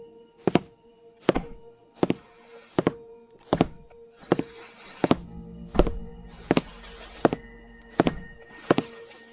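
Strange footsteps outside a school library for a horror story: a slow, even series of hollow thuds, about one per second, moderately close, with faint background hiss and no talking.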